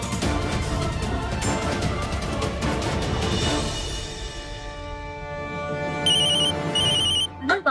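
A mobile phone rings, its repeating electronic tone entering after a stretch of louder indoor household clatter and continuing in short bursts near the end.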